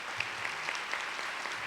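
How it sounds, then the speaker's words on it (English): A gathering of pre-K teachers claps for their hosts in a short burst of quiet, scattered applause, a few individual claps standing out. "Let's give them a round of applause."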